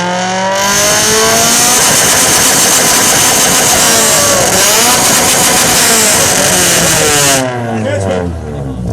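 A Honda Civic hatchback at a Japanese car meet in Ljubljana, Slovenia revs its exhaust loudly and repeatedly up close, the engine note climbing and falling before settling. A crowd and voices can be heard around it.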